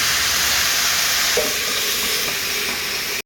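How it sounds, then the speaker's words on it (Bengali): Young jackfruit fries with turmeric and salt in a pan, giving off a steady, loud, hissing sizzle with faint stirring scrapes throughout. "ভালো করে হলুদ এবং লবণের সাথে আমি এঁচুড়টাকে ভালো করে ভেজে নেব।"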